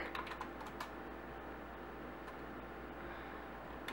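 A computer keyboard is typed on in a short burst of quick keystrokes at the start, followed by a few sparse taps over a low steady hum, close and quiet.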